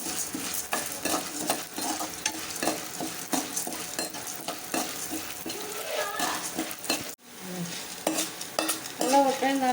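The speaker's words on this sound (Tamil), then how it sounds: "இப்போ கடலப்பருப்பையும் வறுத்து எடுத்துக்குவோம்." Chana dal being stir-fried in a pan for idli podi: a steady close-up scrape of a spoon through the dry lentils, with a soft sizzle and occasional clinks of metal on the pan, and no talking.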